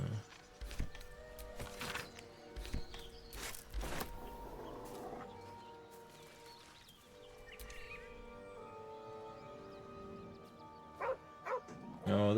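A puppy in the video game Baldur's Gate 3 gives several short yips and barks near the start, mixed with game sounds and a bit of speech, followed by quieter ambience and a few louder bursts at the end.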